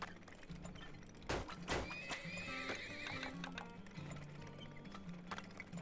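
Horses in the oil-drilling video game Turmoil whinny and neigh loudly, with game sound effects and clopping hooves in the background and no talk.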